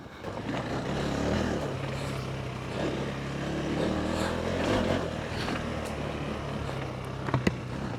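A KTM 390 Enduro motorcycle rides on dirt trails, its engine droning and rising and falling steadily with wind rush, then a few sharp knocks near the end.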